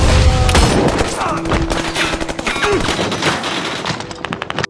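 Rapid bursts of automatic gunfire, loud and close, rattling almost continuously with a heavy boom at the start.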